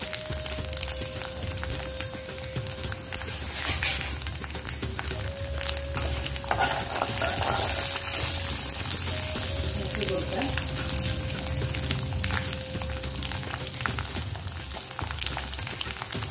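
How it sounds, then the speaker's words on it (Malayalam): Matta rice sizzles and fries in coconut oil in a pan, a continuous crackling hiss with stirring scrapes, close and moderately loud for the whole stretch. "ഇത് കുറച്ച് അരി, മട്ട അരി, ചോറ് വയ്ക്കണ അരി, അത് വെളിച്ചെണ്ണയിലേക്ക് ഇട്ട് കൊടുക്കണം"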